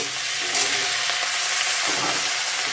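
Potato, pumpkin and soybean chunks frying together with turmeric, a dense steady sizzle and hiss with occasional stirring scrapes.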